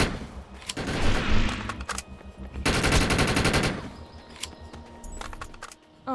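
Rapid automatic gunfire in a video game, loud sustained bursts of machine-gun style shots broken by short pauses, with a final few quick rounds near the end.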